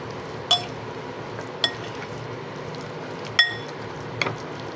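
Filling for crispy-cheese shrimp tacos being mixed in a bowl, with four sharp clinks of a utensil against the bowl spaced over a quiet, faintly hissing background.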